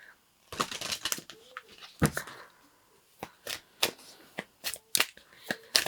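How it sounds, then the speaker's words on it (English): Kali Oracle cards are shuffled by hand close to the mic, a run of quick riffling snaps and flicks in irregular bursts, with no talking. "So now I am going to shuffle you some Kali Oracle card."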